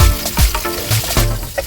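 Onion sizzles steadily in hot oil, with a few clinks and stirring noises on top of the crackle.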